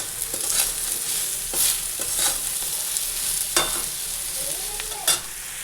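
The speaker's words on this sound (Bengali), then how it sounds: "এই যে পনিরের তরকারি বসিয়ে দিয়েছি" A paneer and potato curry cooks in a pan, giving a steady soft sizzle with a few scraping stirs at irregular moments, close and moderately loud, with no talking.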